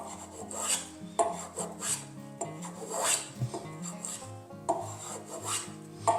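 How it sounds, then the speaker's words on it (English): A sharp carving tool slices and rasps through wood while a floating shelf is shaped, giving repeated close scraping strokes in an uneven rhythm, with no talking. "I really enjoy the sound of sharp tools when they're cutting wood."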